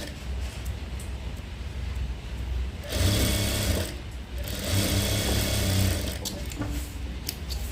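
An electric sewing machine runs steadily while stitching a maggam work blouse, its motor whirring and rattling close by, surging louder in two longer bursts with brief pauses between.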